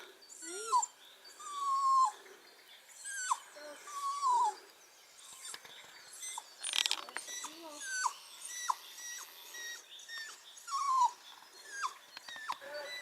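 A dog whines and whimpers in high, quavering squeals, repeated on and off, fairly close and otherwise quiet.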